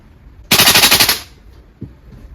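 A VFC V3 gas blowback airsoft rifle fires a loud, sharp full-auto burst of rapid clacking shots lasting under a second, followed by a single short shot.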